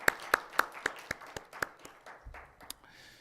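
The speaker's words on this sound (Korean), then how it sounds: "박수." A church congregation at a Sunday morning service claps in a rhythmic series of about ten sharp, evenly spaced claps that thin out toward the end, fairly quiet in the room.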